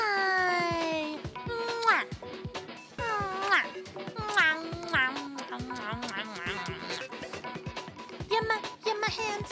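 A cat gives repeated rising and falling meows close by, interleaved with a person talking softly and affectionately in between.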